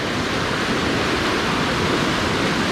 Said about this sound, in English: you're gonna end up next to these rapids